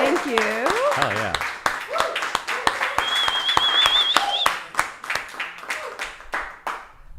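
Live audience clapping and applauding after a song, a dense wash of hands that tapers off over several seconds, with voices talking over it.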